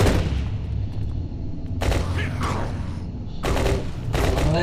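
Gunfire from The Last Stand Dead Zone cuts down zombies in a large hardware store level, loud rapid bursts separated by a short lull, with game noise underneath.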